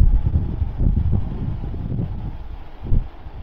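Strong gusty wind buffets the microphone near a flying Autel Evo Lite Plus drone during a wind stability test, making a low, uneven rumble that rises and falls, with no talking.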